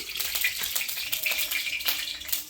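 Cooking oil meeting a hot pan for chicken curry, a soft crackling sizzle with scattered faint pops, quiet and close, with no talking.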